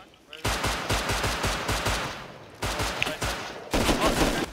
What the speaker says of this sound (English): Oh, that's an AK. That's an LR.